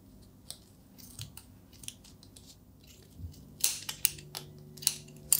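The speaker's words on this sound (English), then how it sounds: "Make sure your scissors are nice and sharp and pointy to get under all those" Sharp pointed scissors snip through wrapped yarn loops while a pom-pom is made for a bachelorette party veil, giving a run of small crisp cuts that grow louder and quicker toward the end, close up with no talk.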